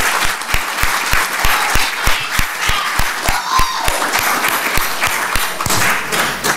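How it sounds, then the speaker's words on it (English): Audience applause at a 2024 candidates' forum for the primaries, offered to all the candidates: a steady wash of crowd clapping lasting the whole stretch, loud and sustained, with sharp regular thumps beneath it. "Let's give a round of applause to all candidates."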